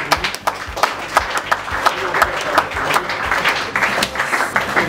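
An audience at a youth league reception for minister Moïse Bokoté applauds with steady, loud, close clapping that runs throughout, with voices murmuring underneath.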